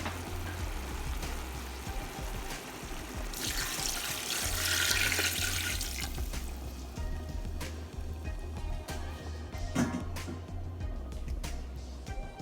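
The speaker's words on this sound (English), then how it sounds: "I'm going to get me about 2 cups of water to throw on it or to pour on it" About two cups of water poured into a pressure pot of Jamaican oxtail with butter beans on the stove: a few seconds of splashing, gushing pour that rises out of steady kitchen background noise, close and fairly loud.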